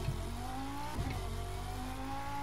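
Audi R8 Coupé V10 engine in the racing game The Crew 2, a steady loud drone with harmonic engine tones, a brief shift or rev change near the middle, continuous and alone.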